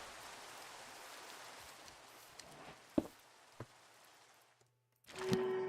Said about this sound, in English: Too rainy.